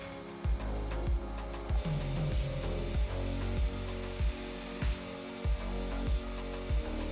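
A power sander grinds steadily against a wooden knife handle, pulsing in a regular rhythm of strokes roughly every half second, loud and close with no voices.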